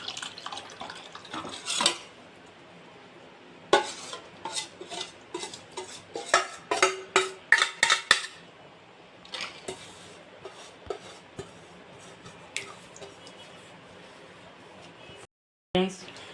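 A mixture being stirred into melted jaggery in a pan, with repeated scraping and clinking of a metal spoon against the pan in uneven bursts, close by, under occasional talk.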